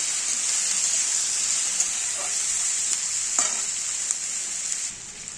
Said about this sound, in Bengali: আমাদের সবজিগুলো ঠিক ভাজা হয়ে গেছে